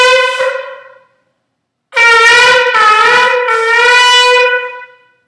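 A ram's-horn shofar sounds the shvarim call: a single brassy blast, a pause, then three short connected wailing blasts, loud and close with no voices.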